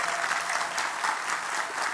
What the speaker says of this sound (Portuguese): Palmas para a gurizada aí